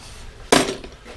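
Cutting through bicycle V-brake cable housing gives a single sharp, close snap, with a faint ringing tail that fades out quickly.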